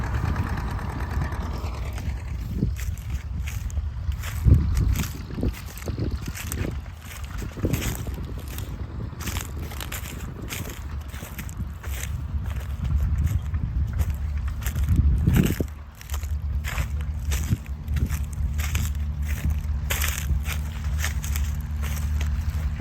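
An Oliver Super 77 tractor pulling a 4B plow at a plow day makes a steady low engine rumble and drone. It holds throughout, with louder surges around the middle and no talk.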